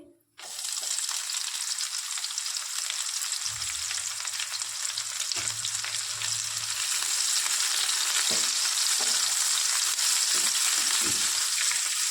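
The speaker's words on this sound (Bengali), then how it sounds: "দিয়ে দেবো পেঁয়াজ কুচি" Chopped onion fries in a pan with a loud, continuous hiss that starts abruptly and holds steady throughout, with faint occasional stirring knocks and a low hum beneath, close and without talk.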